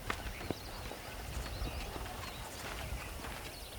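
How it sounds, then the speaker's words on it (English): Horses in the Western video game Red Dead Redemption clip-clop steadily at a walk on the ranch, with faint neighing and outdoor ambience, no talking. "These are fine horses."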